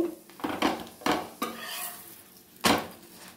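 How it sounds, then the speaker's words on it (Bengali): Paratha frying in oil on a tawa: a soft sizzle under repeated metal spatula scrapes and knocks against the pan, several distinct close clanks spaced irregularly. "এবার পরোটাটা ভালো করে ভেজে নেব"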